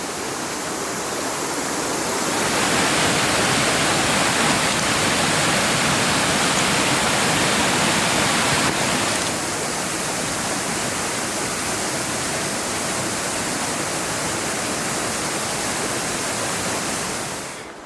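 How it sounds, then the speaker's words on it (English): Small forest waterfalls in Washington rush in a steady, full wash of water noise that swells slightly louder for a few seconds mid-clip, close and continuous with no voices. "So as you can see, we have all these waterfalls to pick from here."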